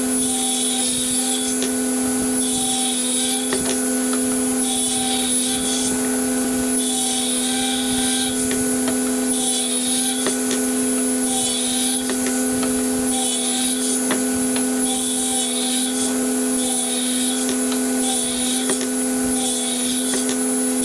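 A table saw rips wood into 1.5 inch strips, its steady high motor whine droning throughout, with repeated rising cutting passes at a regular pace, loud and close.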